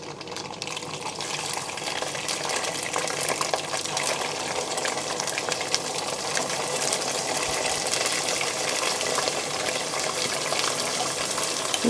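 Hot oil spits and crackles steadily while lime pickle cooks with ginger, a dense continuous sizzle filling the kitchen close by, with no talk.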